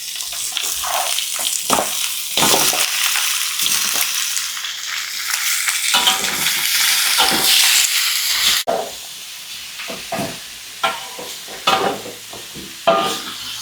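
Sizzling and crackling in hot oil with stirring and scraping clatter, fairly loud and continuous, as chicken pieces are fried in a pan with fragrant garlic.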